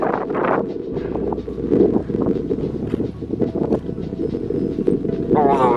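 Steady, buffeting wind roars close against the microphone high on Nepal's Thorong La mountain pass, a dense low rush that gusts and swells for the whole stretch, with muffled voices underneath.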